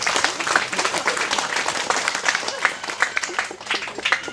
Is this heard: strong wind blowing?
no